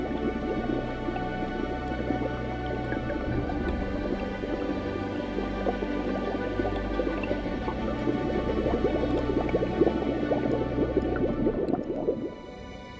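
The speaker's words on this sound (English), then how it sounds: "The volcano continues to bubble away underground, releasing foul-smelling toxic gases into the water." Volcanic gases bubble up into water, a steady dense gurgling and squishing of many small bubbles that carries on without pause for the whole stretch before easing off at the end.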